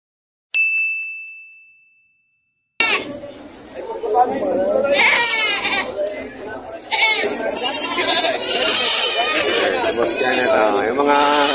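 Goats bleat repeatedly at a livestock market in Padre Garcia, Batangas, mixed with crowd chatter and voices, following a single bright ding and a brief silence at the start.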